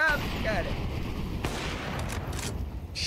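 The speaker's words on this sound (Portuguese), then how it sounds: "Tiro." Gunfire in a Counter-Strike match during a professional BLAST Premier broadcast: a steady wash of game audio with a burst of shots near the middle, heard under a faint commentator voice.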